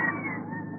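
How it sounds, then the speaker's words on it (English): A seagull cry, a sustained wailing call with a cat-like, mewing quality, heard alone and fairly close for under a second. "That was the cry of a seagull."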